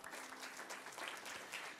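Church congregation applauding during a Wednesday worship service, a soft, steady wash of clapping that sounds fairly distant and fills the whole moment.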